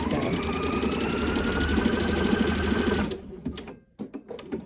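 A sewing machine stitches elastic onto the waistband of homemade panties, running in a steady, fast, close-up whir for about three seconds before stopping and giving way to handling noises.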